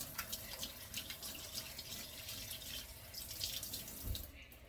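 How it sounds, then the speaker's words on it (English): Tap water runs into a kitchen sink during handwashing, a steady splashing hiss with small shifting splashes and a brief low thump near the end. "Wash my hands."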